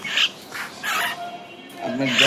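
Shrill, squeaky calls of lovebirds, including green fischer's and rosy red lovebirds, burst out in quick bursts, like small parrots chattering, with a person speaking in between.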